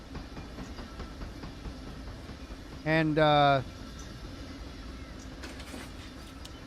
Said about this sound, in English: once that train clears